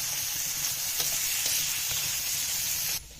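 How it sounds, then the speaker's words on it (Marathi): Tomatoes sauté with ginger, garlic and onion in a pan, giving a steady bright sizzle with light stirring scrapes. The sizzle drops away sharply just before the end. "ह्याच्यात टोमॅटो टाकून परतून घ्यायचंय आपल्याला."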